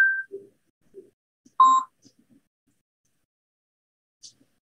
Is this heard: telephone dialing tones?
yes